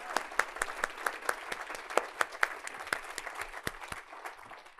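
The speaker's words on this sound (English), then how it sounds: "I just would like to pause and give them all a winner's applause at the beginning." Audience applause for graduate students at a university research-talk competition, a moderate crowd clapping with distinct individual claps standing out, steady for several seconds and then thinning toward the end.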